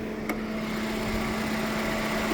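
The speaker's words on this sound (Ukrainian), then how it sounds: "Чуєте, де кондиціонер жужить, пропеллер крутиться." Inside a 2011 Hyundai Tucson, the air conditioner fan gives a steady, low electric buzz with a constant hum that drones on without pause, close by and fairly quiet, with a faint click near the start.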